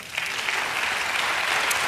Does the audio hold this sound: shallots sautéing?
no